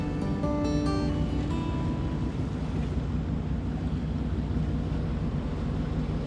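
A yacht's bow thruster runs in a marina with a steady low rumbling drone under wind noise, with a few brief tonal notes early on.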